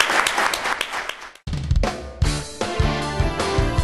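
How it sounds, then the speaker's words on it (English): Applause from an audience after a Q&A session, a soft broadband clapping wash in the first half that cuts off, followed by louder, more distinct bursts and thumps. "let's give them a warm applause"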